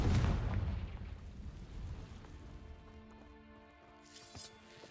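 A Confringo blasting curse goes off in Hogwarts Legacy as a loud, close boom with a heavy low rumble that slowly dies away. Faint game music fills the tail, with a small burst near the end.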